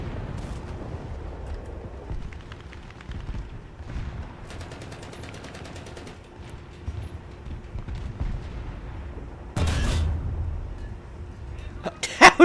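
A 122mm tank cannon on an IS-2 in a video game fires once as a loud, heavy boom with a low rumble tail, standing out from a quieter engine hum and faint background noise.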